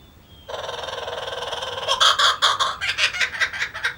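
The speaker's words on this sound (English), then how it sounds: "The kookaburra laughs as she watches the family move inside their home" A kookaburra breaks into its laughing call, starting with a steady rapid chatter, then swelling into loud, rhythmic cackling bursts, close by and without voices.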